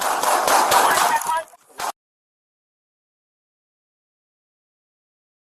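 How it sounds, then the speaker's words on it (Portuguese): Six rapid gunshots on police bodycam footage fire in a dense, loud burst at the start, followed by abrupt silence. "Seis tiros, em uma sequência extremamente rápida."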